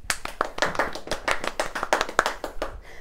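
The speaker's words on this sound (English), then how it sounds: "Let's give her a round of applause." A small group claps in uneven, distinct bursts, each hand strike sharp and close, a sparse round of applause that fades out at the end.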